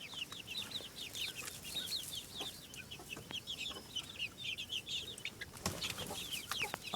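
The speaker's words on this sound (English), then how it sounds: "And the mommy hen somewhere." Hens and chicks on a poultry farm cluck and chirp busily in a steady, moderately near chorus of short repeated calls, with no talking.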